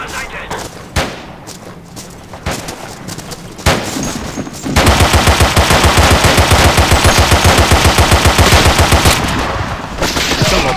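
Video game gunfire in Forgotten Hope 2, St. Vith battle: scattered loud shots, then a long sustained machine-gun burst with rapid even rhythm, close and dominant over ambient battle noise.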